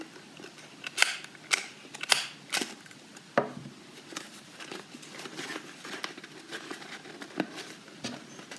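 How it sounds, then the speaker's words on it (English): A stapler snaps through the folded paper edges of a lantern in a series of sharp, close clicks at irregular intervals, with no one speaking. "So staple where you crease the corners, that's where you want to staple them together."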